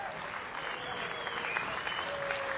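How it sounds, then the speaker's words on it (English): A tennis crowd applauds as Juan Martin del Potro and Taylor Fritz walk onto court, with continuous even clapping from a large audience heard from a distance at moderate volume, and a faint whistle or cheer rising through it. "Give them a round of applause, ladies and gents."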